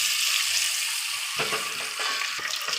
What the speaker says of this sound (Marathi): याला हळद मीठ आणि थोडंसं लाल मिरची पावडर टाकलेली आहे तर मी याला फ्राय करून घेते